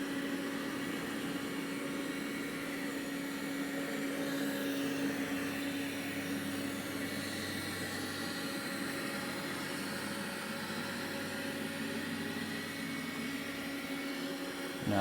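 A Roborock robot vacuum on max suction whirs continuously at high power, close and unchanging, with a faint tonal drone and no voices.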